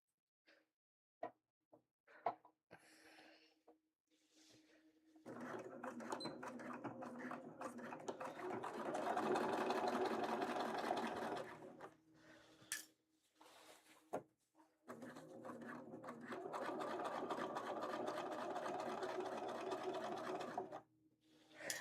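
Sewing machine running a straight stitch during a cosplay costume build, two sustained bursts of fast mechanical whirring separated by pauses, preceded by scattered clicks and taps of handling the machine, fairly quiet and close.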